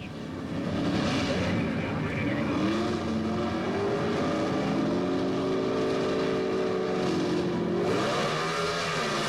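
A 1977 Chevrolet and an AMC Hornet pro stock drag car race side by side, their engines droning loud and steady with rising, shifting pitch for several seconds before easing off.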